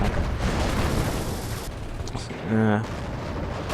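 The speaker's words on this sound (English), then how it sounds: "my mortar's just having a field day trying to hit all these things and failing to kill anything" A mortar in Company of Heroes keeps up fire, with dull booms and rumbling impacts in a dense battle din, and a voice talking over the noise.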